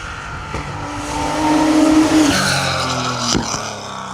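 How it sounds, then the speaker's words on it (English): Porsche 911 rally car racing flat out on an asphalt rally stage, engine note loud and sustained, rising and falling through gears with tire squeal, passing close by. "the Porsche 911 of Colin Gallery and Timothy Gallery."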